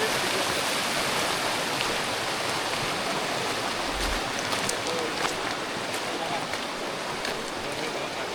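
River flowing beside a motorcycle campsite, a broad, constant rushing hiss of moving water that stays steady and fairly close, with a brief low bump partway through.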